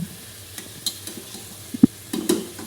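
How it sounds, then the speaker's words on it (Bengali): Mutton cooked with bay leaf, cinnamon, cardamom and cloves, stirred in a hot pan for a bhuna with potol and potato: a low sizzle under scattered spoon scrapes and a few sharp clinks near the end, close and without talk. "এখন ভালোভাবে মাংসগুলোকে নেড়ে নেব"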